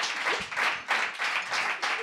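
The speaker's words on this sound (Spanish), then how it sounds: "Aplaudir, aplaudir." A small group claps in short bursts, four or five quick clusters of hand claps at moderate volume over about two seconds.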